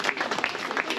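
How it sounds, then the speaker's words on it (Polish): Brief burst of audience clapping at an award ceremony for the vegan run 10 km race, close and fairly loud, with individual claps distinct in the mix. "Wielkie brawa, Rafale."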